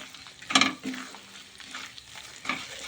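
A spoon stirs melting jaggery with cardamom powder in a pan while making rava laddu. A crisp metallic scrape comes early, followed by softer scrapes over a low sizzle, close by and without talk.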